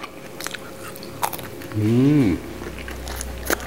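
Someone bites into a crispy fried Indonesian pastel pastry, producing a few sharp crunchy snaps scattered over several seconds, with a short appreciative hum in the middle.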